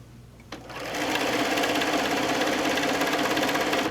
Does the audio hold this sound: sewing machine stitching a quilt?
yes